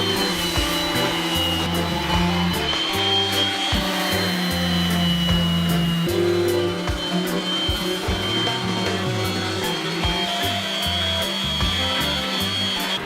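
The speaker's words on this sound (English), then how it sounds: "we're gonna give it some love with the orbital sander" Orbital sander working over a black-painted wooden cabinet, a loud continuous whirring hum with slight shifts in pitch as pressure changes, close and steady throughout with no talking.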